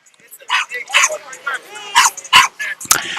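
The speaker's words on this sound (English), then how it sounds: "we got a little dog yapping at somebody over here." A small dog yapping repeatedly at an outdoor baseball tournament in a park, sharp high-pitched barks in an irregular series amid announcer talk.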